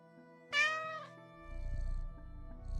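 A cat lets out a single clear, drawn-out meow close by, followed by a low, rumbling background noise.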